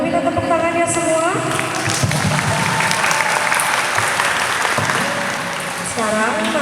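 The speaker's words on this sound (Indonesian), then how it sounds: "Boleh minta tepuk tangannya semua?" A seminar audience applauds steadily at a public speaking event, dense clapping filling the room throughout while voices and cheers rise over it.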